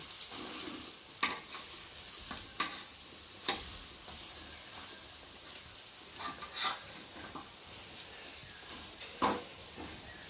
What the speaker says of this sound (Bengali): ঠিক করে ভালোভাবে ভাজা হয়ে গেছে, আর এখন আমি একে একে বড়াগুলোকে তুলে নেব।